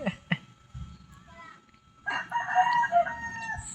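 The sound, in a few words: chickens and rooster crowing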